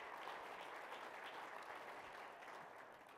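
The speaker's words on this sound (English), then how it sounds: "give a round of applause to the Rooster Teeth Podcast" Audience applause for the Rooster Teeth Podcast at the Podcast Awards 2014, live at NMX, a dense steady wash of many hands clapping, fairly distant and soft, tapering slightly toward the end.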